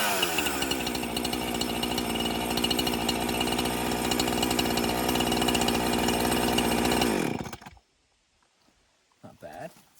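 A Husqvarna 435 homeowner chainsaw engine runs loud and close at a steady idle-like drone, then cuts off abruptly, leaving near silence broken by brief faint handling noises.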